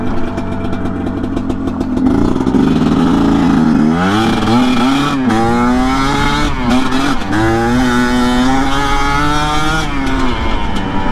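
GPX TSE250R motorcycle engine, a 2021.5 model, revving repeatedly after idling on choke, loud and close, with rising and falling throttle blips over a rough idle.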